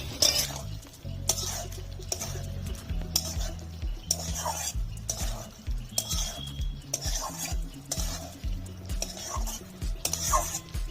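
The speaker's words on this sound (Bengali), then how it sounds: "নাড়াচাড়া করে নেব।" A spoon stirs egg masala (dim kosha) in a pan after garam masala powder is added: repeated scraping and clinking of metal against the pan over a soft sizzle, close and steady.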